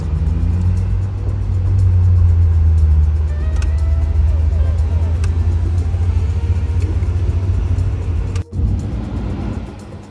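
An Alpine sports car drives along with a steady engine rumble and road noise, loud and close, with a brief dip near the end.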